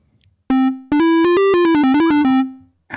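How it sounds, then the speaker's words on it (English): A bright synthesizer triangle-wave tone plays a quick run of notes, stepping up and down in pitch in a short, lively melody before cutting off. "What's give me some triangle wave"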